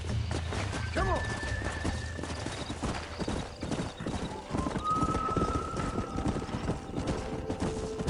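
Galloping horse hooves in the Western video game Red Dead Redemption, a rapid close clip-clop rhythm throughout with a horse whinny, distant gunfire and a voice talking over the action.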